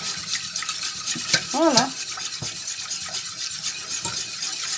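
A spoon stirs a Mornay sauce in a pan just after milk has been poured in, giving a steady soft scraping and swishing in close-up, with a brief voiced word around midway.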